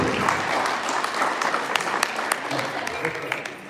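An audience at a championship series draft event applauds, a dense, steady burst of clapping that stays loud from start to finish.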